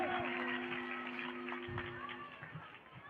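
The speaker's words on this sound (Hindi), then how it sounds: "तालियों से स्वागत कीजिए" Applause from a school audience at an I.H.M. Academy comedy acting show, a steady dense patter of clapping over a faint sustained tone with some voices mixed in.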